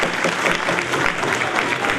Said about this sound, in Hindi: तालियां बजाइए, कुछ तालियों के अंदर